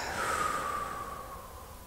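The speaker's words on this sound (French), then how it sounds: "Prends une grande inspiration par le nez. Et expire par la bouche." Slow, deep breath drawn in through the nose and let out through the mouth, a soft airy rush close up, steady across the whole moment with no talk.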